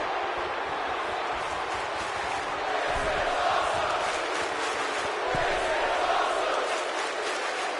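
Arena crowd roaring steadily throughout a WWE 2K19 wrestling match, a dense wash of cheering and shouting that swells slightly near the middle and end, with no clear voices standing out.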